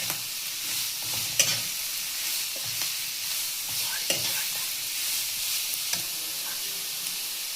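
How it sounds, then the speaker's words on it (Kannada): Grated beetroot fries in a pan with a steady, moderate sizzle, broken now and then by sharp scraping taps of a spoon stirring it, with no one talking. "ಅದನ್ನು ಹಾಕಿ ಫ್ರೈ ಮಾಡಿ."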